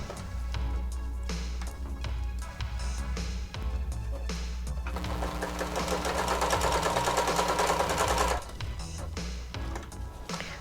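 Sewing machine running straight stitches back and forth on a harness project, short bursts of rapid mechanical whirring with brief pauses, then a longer steady run before stopping again.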